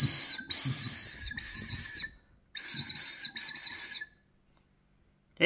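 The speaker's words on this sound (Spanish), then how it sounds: "Y así ya está listo nuestro chiflete para siriacos rápido." Two bursts of a shrill, warbling homemade whistle duck call for whistling ducks, blown close up, each about two seconds with quick fluttering pulses, separated by a short pause.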